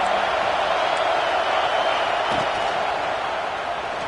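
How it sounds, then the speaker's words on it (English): Stadium crowd noise at an Oregon vs Alabama college football game, a dense, steady roar of many voices filling the space at constant loudness throughout. "Listen to the crowd energy here in the early going."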